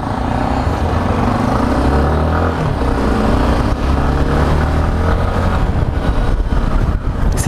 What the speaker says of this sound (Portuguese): Muita moto reunida aqui hoje, muita big trailer.